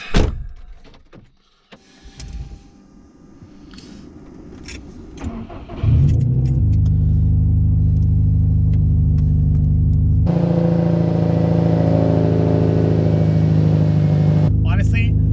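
A Subaru STi with sound deadening fitted cold-starts after some early movement noise, then settles into a loud, steady idle with a deep low rumble that drops slightly in pitch midway, ending abruptly.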